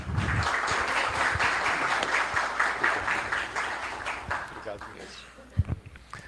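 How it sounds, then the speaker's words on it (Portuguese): A crowd at a talk applauds steadily, dense clapping filling the room for several seconds before fading, with a few voices and thumps near the end. "Uns aplausos para o Edgar."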